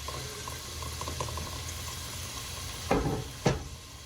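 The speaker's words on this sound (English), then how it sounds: "you can see that garlic is sizzling a bit" Soft, steady sizzle of garlic frying in oil in a pan, with two brief louder scrapes near the end.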